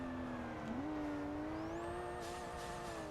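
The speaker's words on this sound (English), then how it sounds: "Oh, that's a fucking rev limiter." Race car engine in Forza Motorsport held high in the revs, a steady droning tone that dips briefly and then climbs, bouncing near the limiter in first gear.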